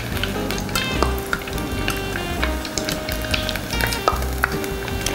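Shrimp rissois deep-frying in hot oil, a steady dense sizzle with crackling pops and bubbling throughout, close and fairly loud, no voices.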